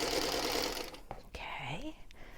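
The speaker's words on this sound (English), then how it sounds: "I'm just going to keep chain stitching, and then I don't have to snip in between." A sewing machine runs steadily while chain stitching quilt pieces for a scrappy quilt block, then stops and gives way to a few brief clicks and a short rising squeak.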